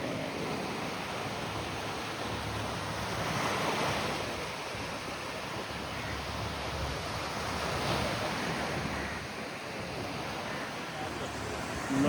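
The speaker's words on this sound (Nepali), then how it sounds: "समुद्रको छाल हेर्नु।" Ocean waves roll and break on the Andaman shore as a steady, broad surf wash, swelling and easing over about twelve seconds, with some wind noise on the microphone and no speech.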